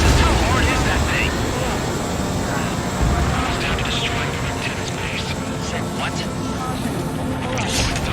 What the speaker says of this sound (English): The main propeller is moving.